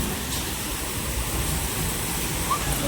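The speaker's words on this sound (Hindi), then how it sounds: "ये देख सकते हो संगवारी में छोटे से झरना है," A small waterfall near a dam site with a little bridge and cave, heard as a steady, broadband rushing roar that fills the whole span, close and fairly loud with no voices over it.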